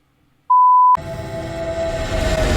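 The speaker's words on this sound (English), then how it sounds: "Beep." A single steady electronic beep, a pure tone lasting about half a second, sounds loudly against silence, then cuts off as busy background sound and music take over.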